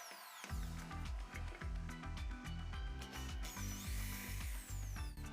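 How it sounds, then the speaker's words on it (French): A power drill bores holes in a box lid in a series of short bursts, motor whine rising and dropping with each push, close and loud. "Dans le couvercle de la boîte, il faut percer 2 trous, un de 10 mètres et un autre de 3 mètres."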